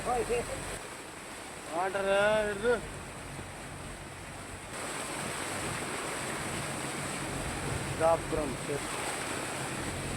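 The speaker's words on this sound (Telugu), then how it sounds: "తీరంలో అలల తీవ్రత పెరిగింది" Rough, cyclone-driven surf roars steadily against the shore under gusting wind noise, with brief voices heard twice.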